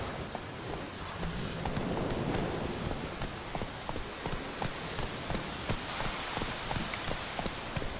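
Horse hooves clip-clop at a steady trot through rain in The Witcher 3, the regular near footfalls set over a constant hiss of falling rain, with no voices.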